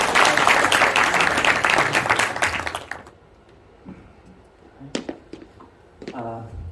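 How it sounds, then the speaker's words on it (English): Crowd applause for the Bangladesh Assistant High Commissioner at a cricket association launch event in Manchester, a thick burst of clapping for about three seconds that fades into a quiet room with a few scattered claps and a voice beginning to speak. "A big round of applause, please."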